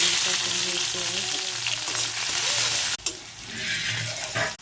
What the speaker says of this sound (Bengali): এখন নুডলস রান্না করে